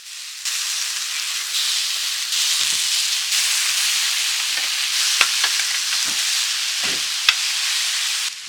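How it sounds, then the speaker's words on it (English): Marinated jerk chicken breasts sear in a hot pan with a steady, dense sizzle and hiss, punctuated by occasional pops and soft scraping or stirring knocks, close and continuous. "Shouldn't take long, a good sear on each side is enough to cook these right through and still have them very juicy."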